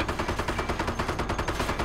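Rapid, even bursts of gunfire in the World War II strategy game Company of Heroes, rattling like a machine gun at a steady pace through the whole stretch, dense and continuous with no talking.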